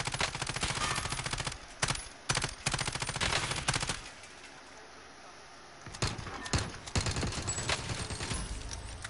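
Gunfire in the video game Call of Duty: Warzone, loud rapid automatic bursts cutting in and out, a lull of several seconds in the middle before more bursts, with no talk.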